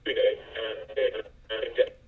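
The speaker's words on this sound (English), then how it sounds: "go back to this distortion with shortwave radio." A voice passed through a shortwave radio distortion effect in Final Cut Pro X sounds thin, band-limited and crackly, coming in short clipped bursts of speech.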